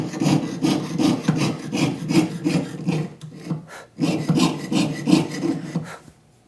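A jeweler's saw piercing sheet metal, with steady back-and-forth rasping strokes in a regular rhythm, close and fairly loud, pausing briefly around the middle before resuming, with no talk.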